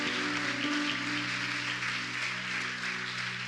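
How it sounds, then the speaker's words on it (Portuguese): A church congregation claps together in a sustained, even burst of applause that fills the room, steady and fairly loud with no voices rising above it. "aplaude ao Senhor."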